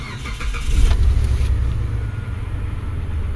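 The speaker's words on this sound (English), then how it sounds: "Let's start the car" The engine of a 2004 Mitsubishi Pajero starts with a brief cranking burst and then settles into a steady, loud low rumble with the air conditioning switched on.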